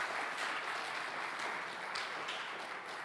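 A church congregation claps together in a steady, even, distant wash of applause, faint and continuous throughout.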